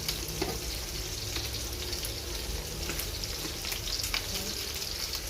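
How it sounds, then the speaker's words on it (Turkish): Peppers frying in a pan, a steady close sizzle and crackle that runs unbroken throughout, with faint scattered pops and no talking. "Sadece biberler de kızardı."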